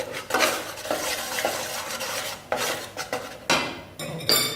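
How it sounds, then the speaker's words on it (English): Flour and butter being stirred in a pan for white sauce, with repeated scraping strokes of a utensil against metal and soft sizzling, close and clear with no talk. "I need to stir it properly."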